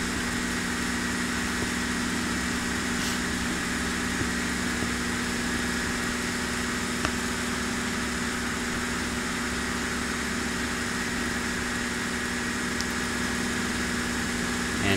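Douglas DC-3 piston engines at climb power in the FS9 flight simulator, a steady, constant droning hum with an even tone that holds unchanged throughout, no talk.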